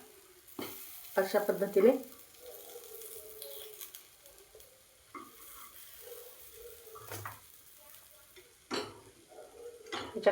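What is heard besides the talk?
banana wheat appe being flipped and frying in appe pan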